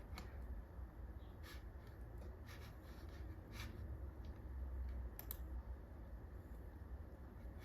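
Fingers tap out a short number code on a computer keyboard, giving a run of quick, faint clicks and keystrokes over a steady low background hum.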